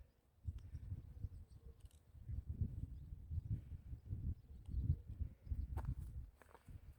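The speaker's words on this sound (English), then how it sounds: "See all the livestock in the fields there." Farm livestock in fields beside the Wales Coast Path near Walnut Tree Farm, heard as a steady low rustle and shuffling with soft thuds close by, continuous through the clip with no talk.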